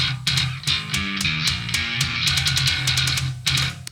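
Bass guitar and kick drum play together after EQ adjustment, a dense low bass line under sharp, regular kick hits, loud and continuous with no talking.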